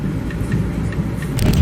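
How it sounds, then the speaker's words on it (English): Cars idle and creep in a traffic jam on a road in Georgia, a steady close engine rumble with faint ticking, building slightly at the end. "we're stuck in a huge traffic jam right now"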